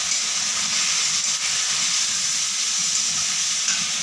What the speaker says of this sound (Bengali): এক চামচ ধনে গুঁড়ো দিয়ে ভালোভাবে মশলাটাকে কষিয়ে নেব।